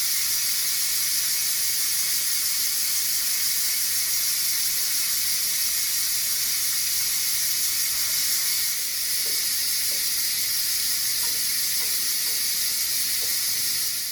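Steam hisses steadily and loudly out of a pot of Colombian sancocho soup for a long stretch, a continuous bright rush with faint clinks near the end.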